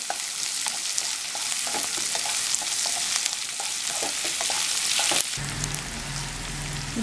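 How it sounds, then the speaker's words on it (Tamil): Onion and green chilli frying in a pan for coconut fried rice, a dense crackling sizzle with stirring scrapes that shifts near the end to a lower, steadier hiss with a faint hum. "வெங்காயம், பச்சை மிளகா, இதெல்லாம் சேர்த்து கொஞ்சம் வதக்கிக்கலாம்."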